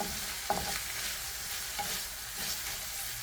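Peri peri chicken livers sizzle steadily in a frying pan while being stirred, producing a constant close hiss with a few soft scraping movements and no talking.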